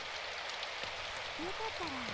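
Rain falling in the visual novel Symphonic Rain, a steady soft hiss of drops, fairly quiet, with a few brief tonal chirps near the end.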